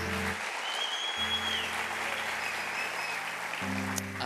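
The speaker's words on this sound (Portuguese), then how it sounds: "Será que vocês podem aplaudir de gratidão os seus pastores?" A church congregation applauding their pastors, sustained broadband clapping with a low musical drone underneath, heard at a moderate distance.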